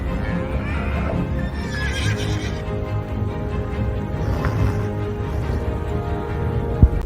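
A horse whinnies during ranch work as a rancher tags a calf, the neigh rising clearly above a steady rumble of hooves and outdoor movement, with a sharp knock near the end and no talk.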